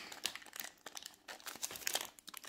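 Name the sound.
opening a 1996 DC comics trading card packet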